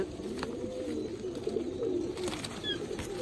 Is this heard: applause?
no